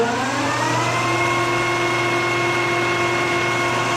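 A vintage Clausing Colchester C17 Mascot lathe runs steadily at 900 RPM, a continuous even mechanical hum with a stable tonal whine and no variation in level over the few seconds, no voices.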